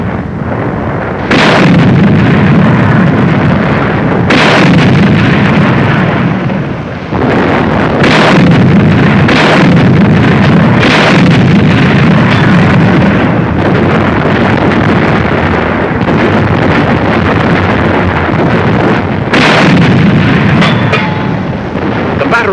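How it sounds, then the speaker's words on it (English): British 25-pounder field guns fire in North Africa, a series of heavy, booming blasts at irregular intervals, each standing out over a constant roar of wind and noise. "British 25-pounders open up."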